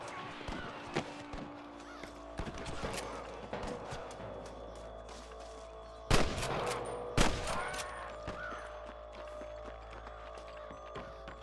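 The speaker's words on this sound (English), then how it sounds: "Hear more gunshots." Gunshots ring out across the scene, scattered single cracks with two loud close blasts, over a steady low rumble and some distant shouting.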